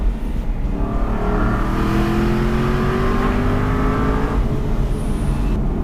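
An Aston Martin V8 Vantage with its 4.3-liter V8 accelerates hard, the engine note climbing steadily in pitch through a long loud pull before easing off near the end.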